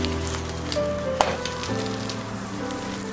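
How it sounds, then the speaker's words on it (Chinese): Chive and egg pancakes pan-frying over low heat in a flat pan with vegetable oil give a steady soft sizzle, with a brief louder crackle near the middle and a low background hum throughout. "开小火慢煎"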